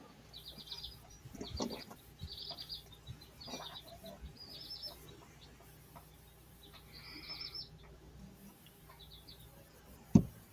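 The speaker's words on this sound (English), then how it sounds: "Actually, that's birds chirping." Birds and chickens chirping outdoors, bursts of high tweets and short calls scattered over a quiet background, some lower clucking notes, with a sharp click near the end.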